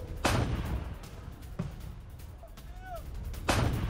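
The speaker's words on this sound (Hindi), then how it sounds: "L-119 तोप से रूसी फोर्सेस पर अटैक किया गया।" An L-119 artillery gun fires at Russian forces, giving three loud, heavy booms spaced a second or two apart, each followed by a rumbling tail.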